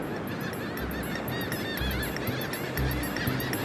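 Many birds call at once along Paraná Bay on Brazil's southern coast, a dense, continuous chorus of honking, goose-like cries layered over one another, loud and steady throughout with no talking.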